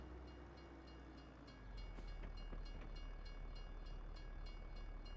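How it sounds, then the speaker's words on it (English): A train rolls by in Farming Simulator with a heavy low rumble that swells partway through, overlaid with faint rhythmic clacks and rattles, and no voices. "Your buddy the train."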